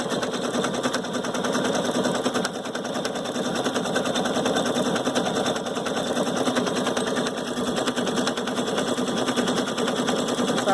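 A Viking Sapphire 930 sewing machine fitted with a braiding foot stitches steadily, a fast, even mechanical whir running unbroken and close up from start to end.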